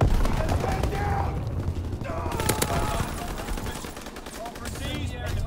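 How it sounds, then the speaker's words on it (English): Anti-aircraft bursts in Call of Duty WWII come as dense, rapid volleys of gunfire and booms, loud and continuous under brief in-game voice calls. "Anti-aircraft bursts commenced"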